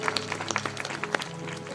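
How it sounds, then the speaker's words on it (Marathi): An audience claps at a Marathi kirtan, producing a quick patter of overlapping claps with a voice faintly underneath. "दादा ठाकूर त्यांच्यासाठी सुद्धा जोरात टाळी वाजवायची"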